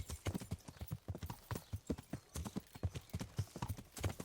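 Steady clip-clop of horse hooves at a trotting rhythm in the video game Kingdom Come: Deliverance, close and fairly loud, with no talking.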